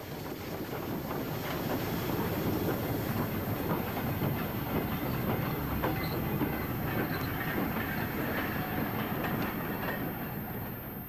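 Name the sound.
BR standard class 9F steam locomotive hauling ballast train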